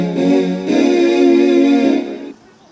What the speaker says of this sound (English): I can make violin sounds like this.